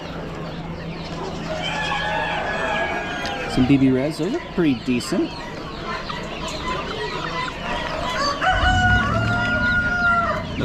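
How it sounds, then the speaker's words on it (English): Barred Rock roosters crow and cluck among poultry at an Amish animal auction, several drawn-out crows rising over a busy barn background while someone talks nearby. "Barred Rock roosters."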